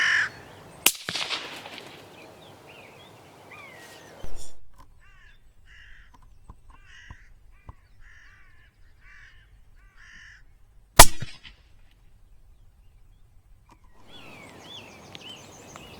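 Crows caw in repeated harsh bursts at moderate distance in open country, the calls coming in short clustered series, framed by two sudden loud sharp bangs near the start and later on.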